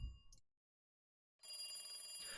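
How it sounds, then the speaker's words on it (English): A telephone rings in the Higurashi video game. A bright, steady electronic ring fills the second half after a short gap of silence, and a brief ring burst opens the clip. It sounds near and clean, with no voices. "The phone continued to ring."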